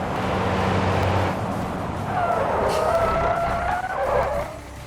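Hard braking of a car on a drag track in the BeamNG driving game, a loud sustained tire squeal and skid over engine noise, rising and shifting in pitch near the end, with no talking.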